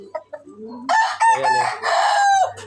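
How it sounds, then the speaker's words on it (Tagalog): Chickens on a mountain farm cluck softly before a rooster breaks into a loud, close, wavering crow lasting over a second, with low clucking underneath at the end. "Ito guys yung ating mga manok."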